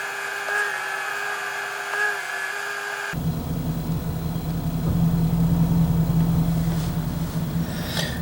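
A car engine idles with a steady, moderately loud low hum, preceded by a few seconds of a constant electronic whine before the broadband engine rumble takes over.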